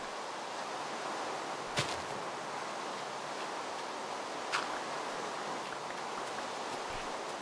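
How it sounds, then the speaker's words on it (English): Steady, even rain hiss in Minecraft fills the scene, a constant wash of noise broken by a couple of brief ticks. "This bloody rain."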